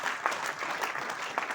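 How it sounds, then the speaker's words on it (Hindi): An audience in a large hall claps loudly and steadily at a business presentation, a dense close wash of applause with no voices over it. "एक बार जोरदार ताली"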